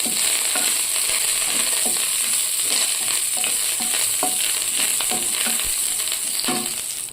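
Curry leaves and chillies fry in hot oil in a mini kitchen, with a steady loud sizzle and crackle throughout and occasional stirring clinks, no talking.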